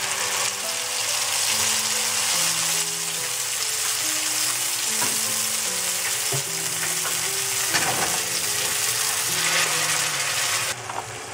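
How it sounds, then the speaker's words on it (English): Pureed tomato added to ginger and garlic frying in a pan, a loud, steady, close sizzle with crackling texture throughout, while faint tonal music plays underneath. "Now I'll add the tomato paste. I pureed 2 large tomatoes."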